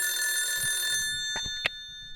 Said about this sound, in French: j'ai un vrai appel en direct